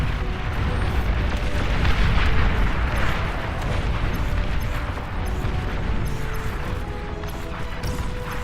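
A commander unit blowing up in the real-time strategy game Beyond All Reason: a dense, sustained roaring explosion with heavy rumble and crackle that holds steady and loud throughout, with no gaps.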